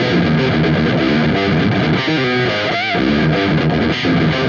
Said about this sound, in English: I could add this raw distortion pedal in to kind of boost